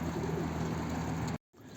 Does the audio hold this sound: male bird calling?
yes